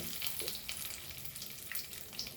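Curry leaves sizzling and crackling in hot oil, a quiet, continuous hiss with small pops, close by and alone.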